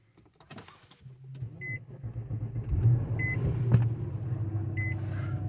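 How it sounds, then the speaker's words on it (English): A 2009 Infiniti FX50 starts up: a short starter crank, then the engine catches into a steady low idle rumble, with a few soft electronic chimes inside the cabin. "Let's go ahead and start the car."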